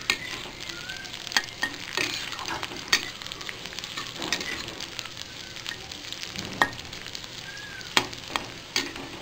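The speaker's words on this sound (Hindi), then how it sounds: "प्याज हल्का भून चुका है, इसमें अदरक डाल लेंगे" Onions and ginger fry in a pan over the gas, a dense close sizzle broken by repeated sharp scrapes and taps of a spoon stirring, with no voices.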